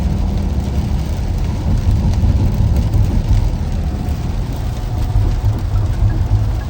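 Heavy rain falls in Dubai, a dense, steady wash of noise that runs without a break and stays fairly loud, with a low rumble underneath and no voices.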